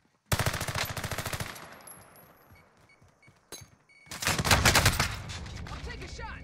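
Call of Duty Warzone gunfire: a rapid automatic burst rattles loudly, fades into a lull with a single sharp shot, then a second heavy sustained burst of fire follows near the end.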